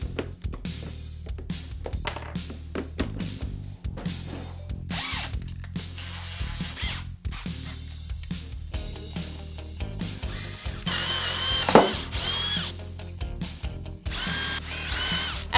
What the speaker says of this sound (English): I'm going to take my drill and a really thick drill bit, and I'm going to drill holes